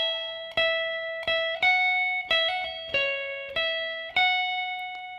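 An electric guitar slowly plays the second bar of a riff, with about eight separate picked notes that each ring out clean and close before the next.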